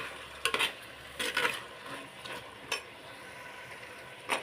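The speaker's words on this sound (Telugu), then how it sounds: "ఫస్ట్ ఉల్లిపాయలు వేపుకొని దోరగా వేపుకొని మట్టిదాకలో చాలా బాగుంటుందండి కర్రీ." Onions frying in a clay pot, a quiet low sizzle with a few sharp scraping stir strokes spaced through it, close and without talk.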